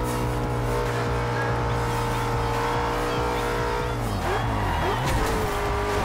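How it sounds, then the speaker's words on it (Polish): Audi RS5 S1 in Forza Horizon 2, its engine droning steadily before the car slides out and the tires squeal in wavering bursts near the end, loud and close with no talking. "O, wywala strasznie ten samochód."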